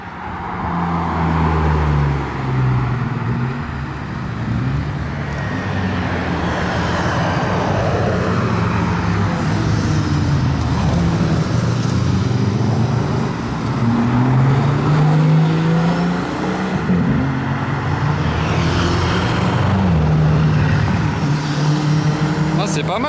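Hypercars in Monaco pull away and accelerate, engines roaring loud and close with rising, sweeping revs over a constant rumble, while people talk throughout.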